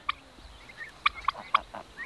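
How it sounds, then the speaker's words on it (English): Several short bursts of turkey gobbling, spaced irregularly over a quiet background, moderately near. "What do you think of these turkeys?"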